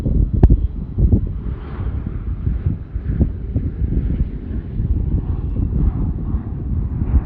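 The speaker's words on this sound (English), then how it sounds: "Next up out of Daytona Beach, we've got CRJ 900 American 5576." American Airlines CRJ 900 jet, about nine years old, departing from Daytona Beach and heard at Charlotte Douglas International Airport as a loud, steady low engine rumble mixed with wind buffeting on the microphone.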